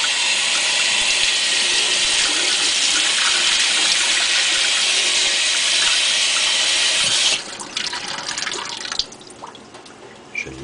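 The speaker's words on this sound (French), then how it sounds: "Et on s'en va à l'eau froide." Cold water runs hard from a tap in a steady close rush while something is washed, then the flow is cut back to lighter splashing and drips near the end.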